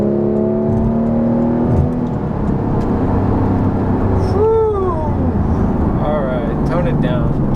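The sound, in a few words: Porsche GT3 engine revving while driving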